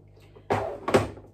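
An IKEA drawer unit in a small home studio: a drawer is pushed shut with a quick slide and thump, followed by a second, sharper knock, close and loud against a quiet room.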